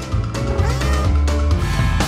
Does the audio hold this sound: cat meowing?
yes